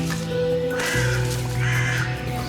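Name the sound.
bird cawing in a video game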